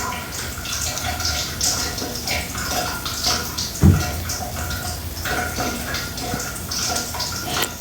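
Water runs steadily from a faucet, a continuous splashing hiss with a brief knock partway through, close and fairly loud throughout.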